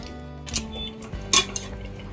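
A utensil stirs and scrapes chicken masala being dry-fried in a metal pot, with a few sharp clinks against the pot's side between softer sizzling and mixing, up close with no talk.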